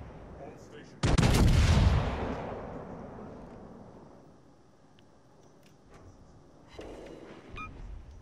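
Gunfire in a naval video game: one heavy, loud blast that rolls into a long fading rumble, then a smaller second boom near the end over a low ambient hum.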